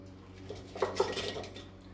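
Broken cinnamon sticks clatter into a glass jar while holiday bitters are being made, a few quick, light clinks and taps close by, brief and fairly faint.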